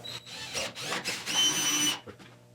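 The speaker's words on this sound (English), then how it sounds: "I'm going to try to find it and drill it back" A power drill whirs in short high-pitched bursts, then runs steadily for about a second before stopping, close by with faint clicks afterward, drilling out an old screw hole in the body of a 1972 Triumph GT6.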